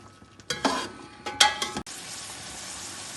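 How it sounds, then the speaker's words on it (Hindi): Chickpeas stirred into hot masala in a pot for chana pulao, giving two short bursts of scraping and sizzling, a sharp clatter, then a soft steady frying hiss. "अब जी चने भी ऐड कर देंगे, चने भी डाल देंगे मसाले के अंदर ताकि ये भी अच्छी तरह भून जाएं"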